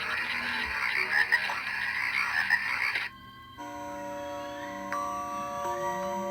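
Frog croaking played as a sleep sound from a small radio, a steady chorus of croaks for about three seconds that cuts off and gives way to a switched, tonal sound.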